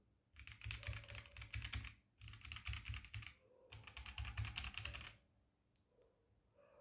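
Typing on a Kreo Hive 65 mechanical gaming keyboard, with three dense bursts of rapid clacking keystrokes separated by short pauses, close and clear, ending in a few scattered key taps.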